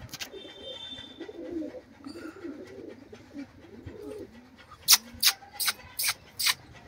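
Red dubaj pigeon cooing softly in low rolling calls, followed by a series of sharp, loud clicks or claps near the end, with faint background noise.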